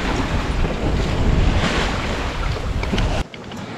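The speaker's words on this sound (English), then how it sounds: "Wind's starting to drop off" Wind rushes and waves wash against a sailboat cruising in the North Atlantic, a loud, dense, continuous roar of buffeting air and sea that drops away sharply near the end.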